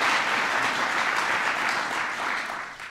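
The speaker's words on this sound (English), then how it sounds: "Give Elizabeth a big round of applause." Sustained audience applause at a mayors' gathering greets the announcement of a new president, a dense steady clapping that holds loud throughout and tapers slightly at the end.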